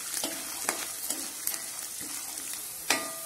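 Peanuts frying in a pan with a little oil and garlic give a soft, continuous sizzle, broken by light rhythmic clicks and scrapes from stirring and one sharper knock near the end.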